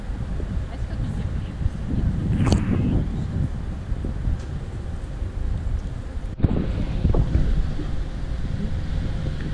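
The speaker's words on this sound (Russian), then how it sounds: "Слава богу, есть ветер." Strong wind roars and buffets the microphone without pause, with brief gusty bursts and faint voices in the background.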